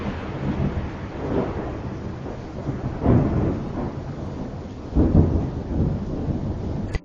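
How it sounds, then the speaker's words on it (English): Thunder rolls through a thunderstorm with steady rain, with long rumbling swells and two louder cracks standing out above the constant hiss of rainfall. "which is why we see the lightning flash way before we hear the noise"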